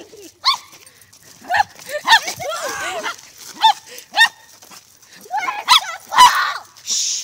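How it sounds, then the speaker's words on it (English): Dogs bark indoors in a scattered series of sharp, fairly close barks and yips, with short whimpering sounds between them. "Hey, no barking, babe."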